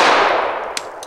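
A single Colt Combat Unit pistol shot at a shooting range about 3 yards from the target, a sharp loud crack decaying quickly, followed by a faint metallic tink.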